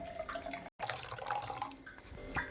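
Juice dripping as a cut lemon is squeezed into a curry-leaf drink, a steady close liquid patter with small drips and splashes, interrupted by a brief gap.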